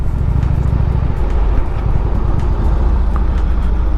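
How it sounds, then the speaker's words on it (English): A truck loaded with a stack of stuff sticking out its side rolls along a road, heard as a loud, steady low engine and road rumble that holds for the whole stretch, with fluctuating growl and no voices. "I've got a truck that's got a whole stack of stuff sticking out the side of it"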